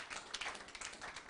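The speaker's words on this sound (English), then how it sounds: "Let's give him a round of applause." Brief, faint applause from a conference audience for a panelist at a water and sanitation financing session, a soft patter of scattered clapping at a distance.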